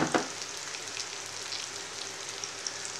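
Garlic paste sizzling as it fries in a hot pan for Tamil vatha kuzhambu, a steady hissing crackle after a brief splash at the start, with no talk.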